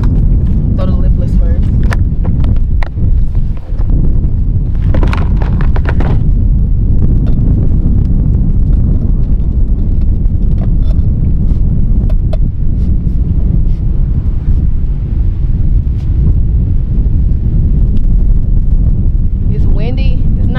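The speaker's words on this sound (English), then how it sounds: "It's windy." Strong wind buffets the microphone on a lake during bass fishing from a Bass Tracker 175 boat, a constant low rumbling roar throughout, with occasional clicks and knocks.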